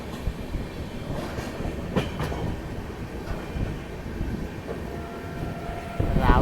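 The Hirakhand Express passenger train runs on rails on a monsoon journey from Bhubaneswar to Koraput, giving a steady rumbling roll with faint clicks and a louder surge near the end.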